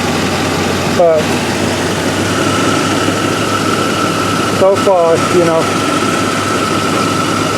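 A 1998 Bentley Brooklands R idles steadily with a slight misfire and a continuous low engine rumble, while someone talks over it in a few short bursts.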